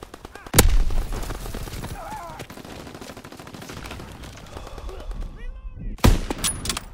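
Gunfire in a Call of Duty: WWII battle during Operation Neptune, two sharp loud shots standing out over a busy combat background with scattered smaller reports and battlefield clutter.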